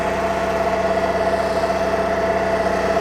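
A BCS 630 WS flail mower's engine runs steadily while mowing, a continuous close mechanical drone with a steady tonal hum and vibration, no one talking.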